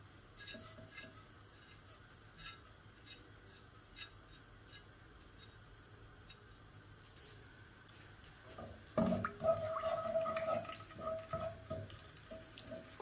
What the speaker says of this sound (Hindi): ऑयल गरम हो गया तो इस टाइम पे मैं इसमें ये जो हमने साबुत ज़ीरा लिया था 1 चम्मच वो डालूंगी